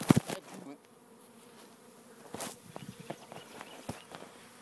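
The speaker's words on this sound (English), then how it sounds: "these bees were swarming out of this nuke" A honey bee swarm pours out of a nuc box, giving a low buzzing drone with scattered thumps and rustles close by. No one speaks.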